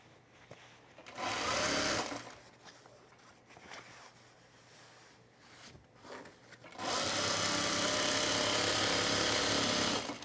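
A sewing machine stitches a French seam in two sustained bursts, a short run early on and a longer, steady run toward the end, close and fairly loud, with quieter handling noise between.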